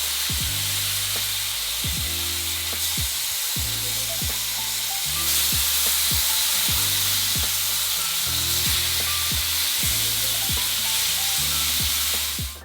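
A salmon fillet fries in butter in a pan, giving a steady, close sizzle and hiss throughout with no talking.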